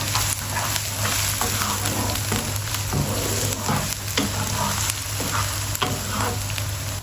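Ginger garlic paste sizzles in hot oil with kalonji seeds, a steady loud frying crackle that runs throughout with occasional stirring scrapes and a faint hum underneath, no voices.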